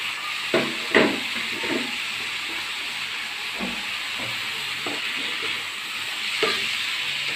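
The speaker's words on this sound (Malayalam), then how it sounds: "എന്നിട്ടൊന്ന് നന്നായി ഇളക്കി കൊടുക്കാം" Chopped curry leaves and coriander leaves being stirred in a hot pan, a soft steady sizzle broken by several light scraping taps of the spoon.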